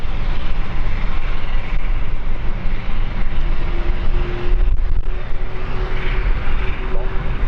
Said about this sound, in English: I'm going to focus on the Embraer coming in first